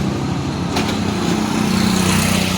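A small vehicle engine droning close by as it is driven, a steady buzzing rumble that climbs slightly in pitch toward the end as it speeds up, with no talking.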